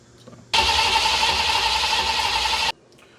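A Foxbody Mustang's engine cranks without catching, a loud steady whirr of the starter that begins abruptly, holds for about two seconds and cuts off sharply, with a quiet room on either side.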